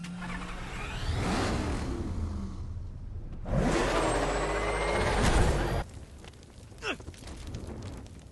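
A military vehicle drives in the Batman: Arkham Knight video game, its heavy engine rumbling and roaring loudly past, then fading, with hissing and clanks and a brief voice near the end.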